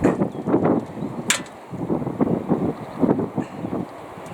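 Steady outdoor wind in a garden rumbles and buffets the microphone in repeated low gusts, with a brief sharp rustle partway through.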